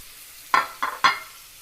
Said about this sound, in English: we're looking for a nice sear, crispy crust on both sides